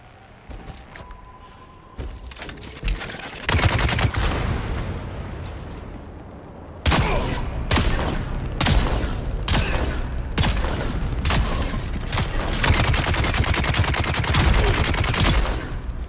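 Gunfire from an enemy gunner in the survival game Dune: Awakening comes as repeated sharp bursts, sparse at first and then dense, rapid volleys that continue loudly to the end.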